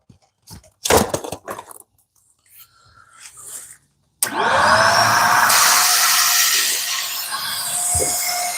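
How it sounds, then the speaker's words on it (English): A shop vac starts up abruptly after some scattered clatter and handling noises, then runs loudly and steadily with a high whine. "y'all don't mind the noise from the vacuum cleaner"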